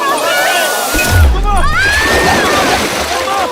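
A woman falls into water with a heavy splash and sloshing, followed by churning water, while people shout and talk excitedly around it.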